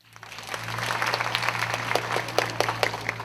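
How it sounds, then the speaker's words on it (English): An audience at an Older Americans Act 60th birthday event gives a quick round of applause, dense clapping that swells in and holds steady, with a low hum underneath. "I want you to practice the really quick round of applause"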